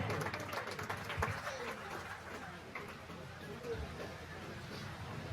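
Crowd applause at a sports match between Kosambi Kasaragod and Hercules Vempa: a continuous wash of clapping and crowd noise under a commentator's amplified voice, steady throughout.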